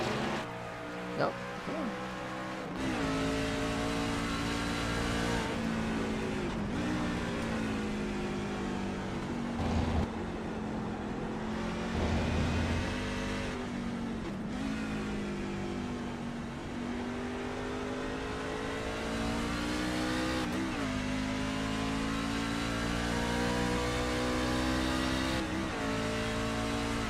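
Truck engine in iRacing at Watkins Glen International, heard onboard: a continuous loud droning whine that rises and falls through repeated gear shifts and throttle lifts, with commentators talking over it.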